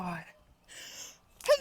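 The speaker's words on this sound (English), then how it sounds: "Oh my god, I'm sneezing." A single sneeze outdoors in a backyard, sharp and close, coming at the end after a couple of short gasps and breaths.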